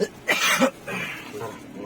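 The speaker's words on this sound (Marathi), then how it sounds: "खोकला लागलाय" A person coughs and clears their throat a few times in quick, rough bursts, close to the microphone, followed by a softer trailing breath.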